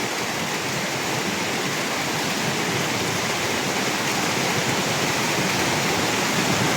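A heavy, sudden downpour pounds down hard enough to flood the street, producing a dense, constant hiss of rain that stays loud and unchanging throughout, with no voices.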